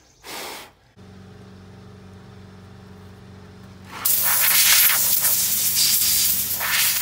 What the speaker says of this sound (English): now we need to blow all these burrs off of here.